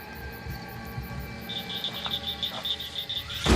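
An American toad calls on the forest floor at night: a steady, high, pulsing trill that runs on and off, with crickets and other insects buzzing in the background and a thump at the end.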